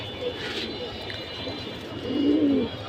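A pigeon coos softly indoors, with low murmuring calls and a louder coo near the end over faint background noise.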